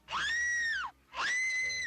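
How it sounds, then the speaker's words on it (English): A woman screams twice in a film scene with a black cat: two loud, sustained, high-pitched shrieks, each close to a second long, with a short gap between them. "we jump cut to a black cat's face, and the woman screams"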